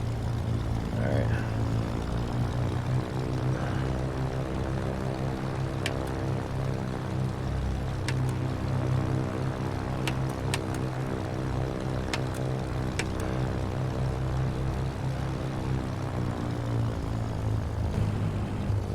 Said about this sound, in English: Now this plane takes off pretty quick